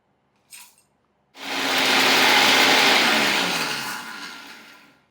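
Mixer grinder coarsely grinding roasted lentils and spices, a steady loud whirring grind that starts abruptly after a brief clink and holds, then slowly eases off.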